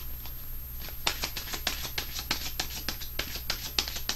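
Angel answer cards being shuffled by hand, a steady run of crisp riffling flicks close up with a faint constant hum underneath.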